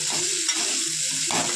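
Spices sizzle and fry steadily in a pan for a potato stir-fry, with soft stirring scrapes and no voices.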